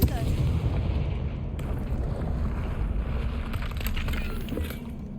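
Explosive Confringo spell blasts in the Hogwarts Legacy video game, heard as a loud, dense, rumbling burst that lingers with a roaring wash and shifting crackles.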